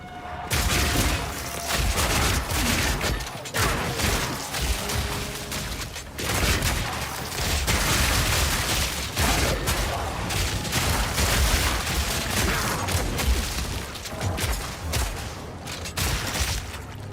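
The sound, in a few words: shotgun bleed explosions in video game Path of Exile 2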